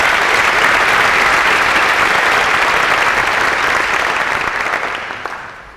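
Sustained applause from a convocation audience at Western Kentucky University in 1993, welcoming new faculty members, fills the room loudly and evenly before tapering off near the end.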